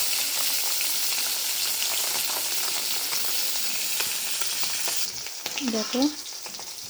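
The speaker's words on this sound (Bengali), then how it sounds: "মাছ ভাজা হয়ে গেছে" Koi fish fry in hot oil with a constant loud crackling sizzle that fills the scene; near the end a voice speaks briefly over it.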